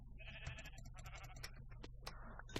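Minecraft sheep bleating in a video game, several short wavering bleats over a low steady game background hum, with small clicks and thuds of play.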